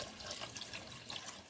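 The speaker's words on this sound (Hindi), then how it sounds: "तो 3 गिलास पानी के हमने इसमें भर के डाल दिए।" Water poured from a glass into a cooking pot of meat for daal gosht, a steady close splashing pour with no talk.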